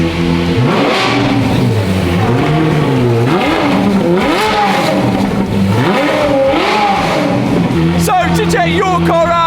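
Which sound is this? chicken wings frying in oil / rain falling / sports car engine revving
sports car engine revving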